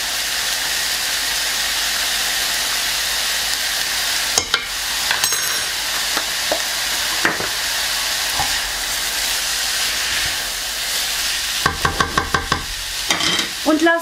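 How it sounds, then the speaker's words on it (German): Turkey meat sizzles steadily in a hot pan for a bulgur dish, a constant close hiss broken by occasional scraping and clinks as it is stirred. "Und lasse das einfach mal anbraten."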